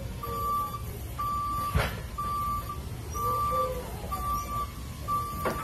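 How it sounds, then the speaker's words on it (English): A forklift's reversing alarm beeps in a steady rhythm, about once a second, over a low engine rumble while the machine pushes a pallet. There is a brief thud partway through. "Here, I'm going to push this pallet out of my way to grab the next one."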